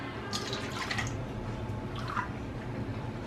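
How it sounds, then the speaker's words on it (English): Whole milk is poured into a bowl, making a few splashy, trickling bursts over a low background hum. The pouring sounds are close and fairly soft, and nobody talks. "I'm gonna add 2 cups of milk."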